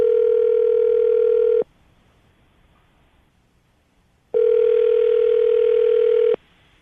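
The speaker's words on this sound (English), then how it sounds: "I'm going to dial the phone number right now, see if we can get him on the phone" A telephone line rings through after a number is dialed: two long, steady electronic tones, each about a second and a half, separated by a stretch of near silence.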